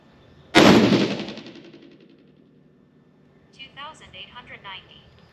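A single loud 6.5 PRC rifle shot fired off a bipod with IMR7828SSC powder loads rings out sharply and decays over about a second, then a brief electronic beeping follows.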